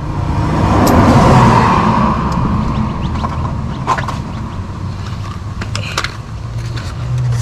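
A 2005 Holden Rodeo engine runs rough with a misfire from bad ignition coils and spark plugs, giving a steady, loud mechanical drone with uneven knocks and rattles and no voices over it.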